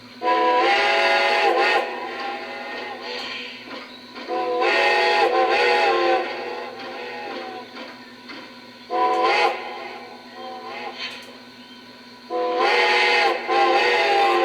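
A Lionel model train's ghost whistle sounds in four long, loud blasts separated by pauses, over a steady low electrical hum.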